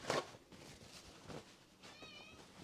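A pet cat cries indoors in a kitchen, with a sharp meow at the start, softer mews after, and a wavering drawn-out call near the end, close and otherwise quiet.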